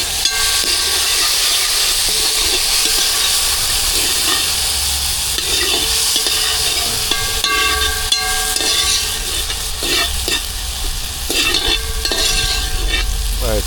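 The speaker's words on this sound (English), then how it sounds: "we're gonna saute for a bit and then add some water" Onion, garlic, pimento, celery, chive and tomato sauté in a pot for a fish and breadfruit oil down, a continuous close sizzle and hiss broken by scraping stirs at irregular intervals, with no talking.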